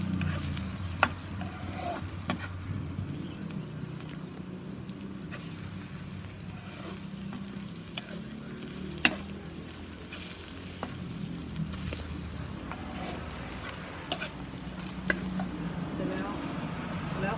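Pork stir-fried in a pan with Burmese curry paste for a Burmese-style pork curry, giving a steady close sizzle and bubbling with scattered spatula clicks throughout.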